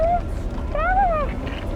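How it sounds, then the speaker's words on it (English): A cat in Genshin Impact gives two meows, a short one and then a longer rising-and-falling one, clear and close over a soft game background. "There's a kitty over there."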